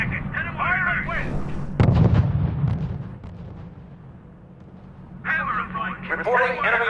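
Artillery and gunfire in the war strategy video game R.U.S.E. burst out in a loud blast and rumbling volley, while radio-style voices talk before and after the shots.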